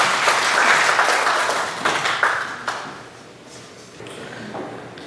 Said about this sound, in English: So I would like to ask all of you to give him a round of applause.